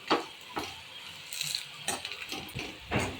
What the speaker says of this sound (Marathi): कांदा फ्राय करून घेते